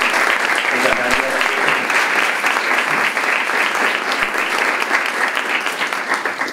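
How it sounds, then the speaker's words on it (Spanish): A full room of listeners applauds vigorously and continuously at a talk during the 15th film festival, with the clapping loud and close throughout and a few stray thumps underneath. "Le damos un fuerte aplauso y le agradecemos."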